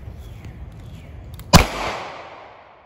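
A single gunshot from a .38 Special +P revolver gives one sharp, loud crack with a short ringing tail, after a stretch of low background hum.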